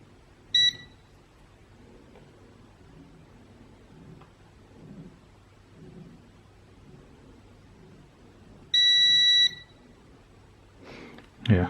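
Two short, sharp electronic beeps from a multimeter continuity test during a Sony PSP repair, spaced several seconds apart over quiet room noise, with a clatter at the end.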